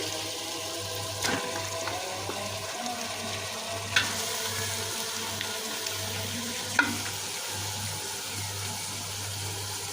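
Beef pieces fry in spice paste and oil in a home kitchen pan, a steady low sizzle with occasional stirring scrapes and clinks over a constant background hum.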